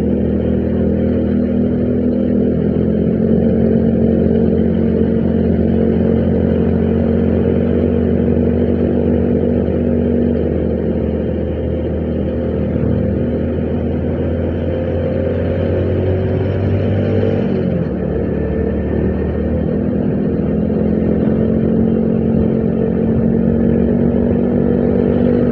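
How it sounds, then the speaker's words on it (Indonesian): Cars and motorcycles pass along a road through a forest, a continuous mid-loud engine drone that swells and shifts in pitch as vehicles go by, with a noticeable change partway through. "Ya masih ada mobil-mobil lewat gitu kan."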